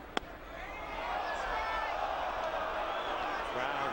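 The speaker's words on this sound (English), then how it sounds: "Crowd groaning. They want every pitch a strike." Baseball crowd at a Dodgers at Colorado Rockies game groaning at a pitch, a broad sustained murmur of many voices swelling after a brief sharp knock, with an announcer talking over it.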